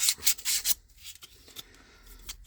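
A moped cylinder tuning ring for an Airsal T5 on a Peugeot 103 being sanded by hand with sandpaper, giving a few quick, close raspy strokes followed by quieter scraping.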